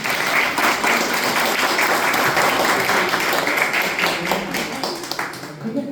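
Audience applause fills a workshop on AI prompt engineering: dense, steady clapping from a crowd, loud and sustained for several seconds before thinning slightly at the end.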